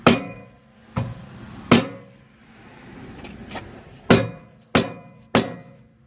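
Sharp, loud strikes of a rubber mallet on a bolt in a 2013 Chevrolet Malibu rear control arm, six blows in uneven bursts with ringing metallic decay and quiet shop noise between.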